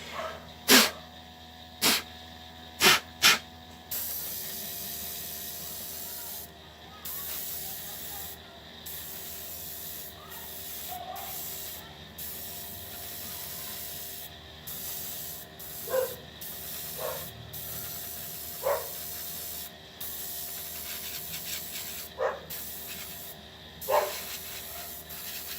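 An aerosol spray paint can hissing in short bursts, with a quick cluster of blasts at the start and then scattered spurts over a low steady background hum, heard close and without talk.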